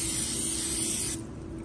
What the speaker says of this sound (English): we're going to spray mold cavities with PAM and allow excess to drain on a paper towel